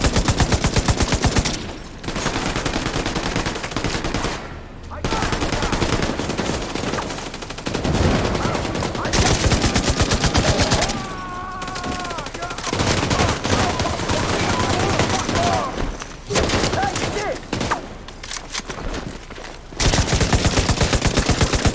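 Automatic gunfire and bursts of shots in the video game The Division 2 (Warlords of New York), loud and dense through most of the stretch, with brief pauses and game voices and music mixed underneath.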